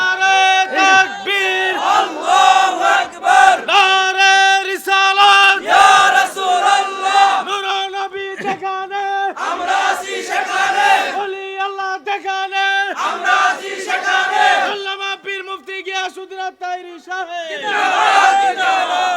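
Large crowd at an Islamic religious gathering chanting slogans in unison, loud, rhythmic repeated shouts filling the whole stretch with brief pauses between phrases.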